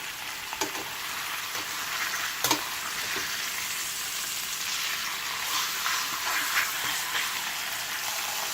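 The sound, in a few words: lamb neck pieces browning in a pan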